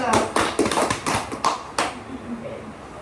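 A small classroom of students gives a short burst of scattered, uneven hand claps during a micro-teaching lesson, about eight sharp claps over under two seconds that then trail into quiet with a faint voice.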